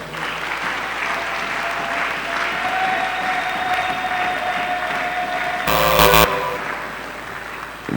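A church congregation applauds at a worship service: dense, sustained clapping from a large crowd runs throughout, with a short, loud, harsh burst near the end.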